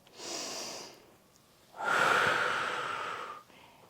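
Slow, audible breathing during a range of motion exercise: a soft breath out, a pause, then a longer, louder breath with a faint whistle, ending in a short exhale, close and with no talking.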